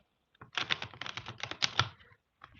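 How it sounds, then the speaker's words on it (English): A deck of cards being shuffled up close during an indoor reading session, a quick run of dense crackling riffles lasting about a second and a half, then a brief tap. "just shuffling the deck and getting everything ready"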